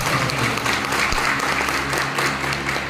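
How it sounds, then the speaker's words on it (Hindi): Audience at a business meeting giving loud applause for a guest, a dense continuous roar of clapping with a low background hum, steady and close for about three seconds. "एक बार अमित सर के लिए एक बार जोरदार ताली"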